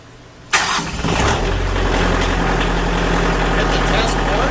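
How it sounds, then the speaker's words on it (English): Bobcat tractor engine cranking and catching with a sharp burst, then settling into a loud, steady diesel idle with a deep rumble, recorded close up. "So I'm going to go ahead and start the tractor."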